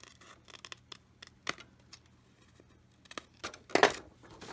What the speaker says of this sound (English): I'm going to cut it and round it out with a pair of scissors.